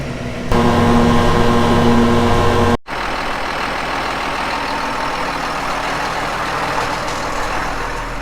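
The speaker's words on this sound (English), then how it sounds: "Let's hop into the tractor, get this down to the shed." A farm tractor engine runs steadily at close range with a low, continuous mechanical drone, changing to a rougher, lower-pitched idle after a brief cutout near the three-second mark; no one speaks.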